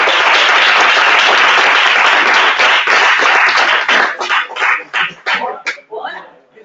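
An audience at a game jam round-table in Madrid bursts into loud, dense applause that holds steady, then thins into scattered separate claps and fades out.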